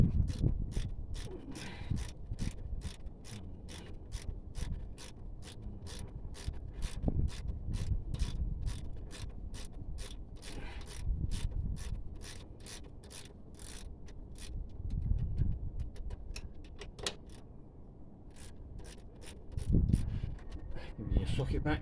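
Socket ratchet working a crusty, corroded bolt on the front strut of a 2009 Renault Megane, a steady fast train of sharp ratcheting clicks close by for most of the stretch, with low handling thuds and a voice underneath.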